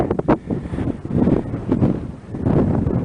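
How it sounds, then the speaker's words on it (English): Strong wind gusting over an exposed mountain crest on a hike near Landslide Lake, buffeting the microphone in loud, rumbling surges that rise and fall throughout, with no voices. "I'm sure you can hear the wind."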